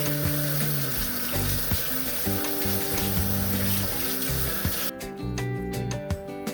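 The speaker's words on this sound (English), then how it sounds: "let me rinse my leaf here and wash it carefully" Tap water runs steadily into a kitchen sink as a leaf is rinsed and rubbed clean by hand; close, continuous splashing with soft handling noises, then the flow cuts off, leaving drips.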